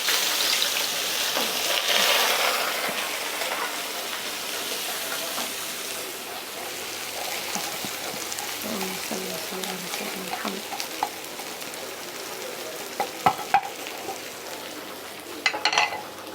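Yellow lentils and rice for koshari are sautéed and stirred in a pot, giving a constant close sizzle with soft scraping and a few sharp clinks near the end.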